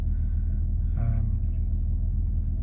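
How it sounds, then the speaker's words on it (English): A warm 1985 Toyota Celica Supra engine idles steadily at about 800-900 RPM, a close, even low rumble with a faint murmur briefly over it. "it's now warmed up a little bit, so it's now idling around about 800-900 RPM"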